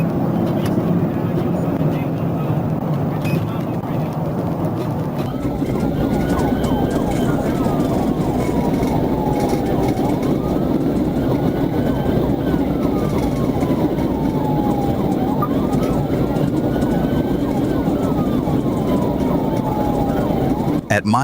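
Police car siren during a high-speed chase of an SUV on a Florida highway, a wailing tone sweeping up and down repeatedly over loud road and engine rumble, with a voice talking over it.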